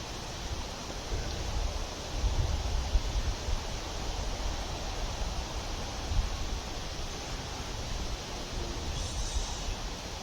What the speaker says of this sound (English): I'm even going to put the white noise on this time